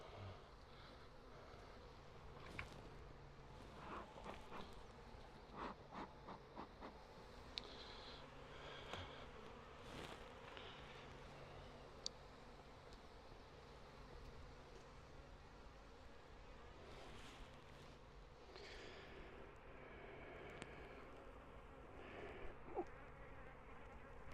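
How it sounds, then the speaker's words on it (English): Many bees drone and buzz steadily around a beehive during a colony split, a dense close hum with individual insects flying past now and then. "A lot of bees."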